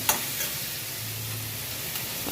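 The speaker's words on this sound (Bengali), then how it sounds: "হলুদটা ভেজে ভেজে নিলাম নাহলে গন্ধ হবে" Turmeric frying in a wok, a soft steady sizzle with a faint scrape of stirring at the start and end, no voices.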